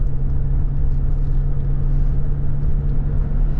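A 2014 GMC Savana 1500 conversion van drives up a freeway on-ramp, heard from inside as a loud, steady low engine and road drone with a constant hum and no speech.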